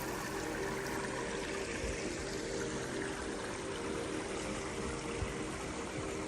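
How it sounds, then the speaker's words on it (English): Continuous broadband rush of a rocky stream flowing in See Canyon, Tonto National Forest, steady and fairly close, with no voices and little change in level. "But I also hear water over here."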